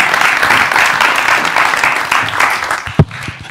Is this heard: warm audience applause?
yes